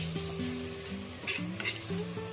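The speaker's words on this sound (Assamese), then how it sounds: "আলুখিনি দি মেলি ধুনীয়াকৈ ভাজি ল'লোঁ" Boiled potatoes fry in oil in a pan, giving a soft continuous sizzle with scraping stirs, under a steady melodic tone, no voices.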